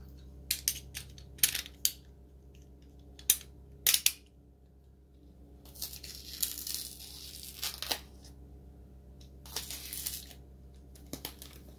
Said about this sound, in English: Let's see if we can cut one of these bars out.